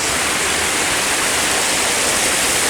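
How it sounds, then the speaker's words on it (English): Water feature outside Sheffield railway station, a loud, constant splashing rush of falling water, close by and unbroken throughout. "It'd be nice if more stations had this water feature, which has been here since 2007."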